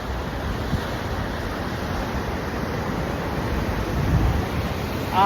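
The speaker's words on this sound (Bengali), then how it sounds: "বিশাল বিশাল সমুদ্রের ঢেউ" Big ocean waves at Port Macquarie beach in New South Wales, Australia, make a continuous broad roar of surf blended with wind, steady and fairly loud with a slight swell near the end.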